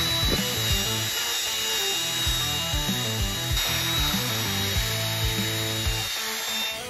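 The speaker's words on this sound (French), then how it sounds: "puis frottez avec la brosse montée sur perceuse" A power drill whirs steadily with a rotating brush scrubbing a car floor mat, a continuous buzzing grind with small pitch shifts.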